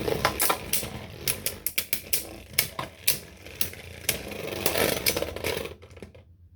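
Beyblade Burst Surge spinning tops launched into a plastic stadium, colliding and grinding with rapid clicking and sharp metallic-plastic clacks in quick irregular bursts, loud and near, ending suddenly in quiet.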